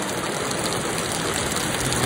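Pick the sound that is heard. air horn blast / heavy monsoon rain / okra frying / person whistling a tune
heavy monsoon rain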